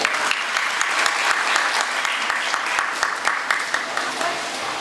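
An audience claps at a public event honouring a couple, with brisk, dense applause sustained throughout and individual claps standing out sharply, plus a faint murmur of voices.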